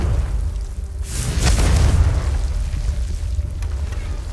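Confringo fire spell from Hogwarts Legacy bursting into a deep, rumbling explosion that swells and lingers, loud and close, with no talking.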